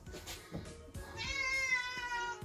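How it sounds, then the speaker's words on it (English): Cat meows in a long, drawn-out cry that rises and holds near the end, preceded by shorter vocal bursts, close and clear outdoors in Tokyo. "cat."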